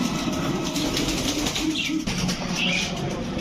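Domestic Giribaz pigeons, teddy, racer and high-flyer types, coo steadily in a loft, with occasional bursts of wing flapping close by over a dense, busy background.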